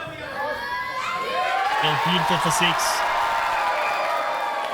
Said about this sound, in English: Can you believe that this crowd cheered louder for the Bais and the Saviours?